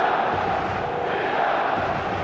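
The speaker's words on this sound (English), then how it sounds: "The stadium is full of noise and energy." Full stadium crowd in the football game eFootball 2026, a dense continuous roar of many voices at steady, fairly loud level with no break.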